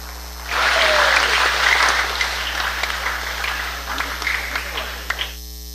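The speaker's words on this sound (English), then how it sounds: "let's welcome Wasai Soges with a round of applause." An audience at an expo welcome ceremony breaks into loud, sustained applause, which swells quickly and then slowly thins out into scattered claps.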